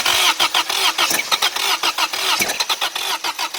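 A car engine cranks in loud, rapid rhythmic bursts while someone tries to start it after the spark plugs have been checked, the starter pulsing close up with no one speaking.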